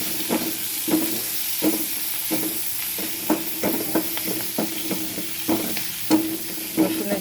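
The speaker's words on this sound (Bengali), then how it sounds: "সেই জন্য এবার আমি দিয়ে দিলাম রসুনটা" Garlic frying in a pan with oil, a steady crackling sizzle punctuated by repeated stirring scrapes and clicks of a utensil, close and fairly loud throughout, with no voices.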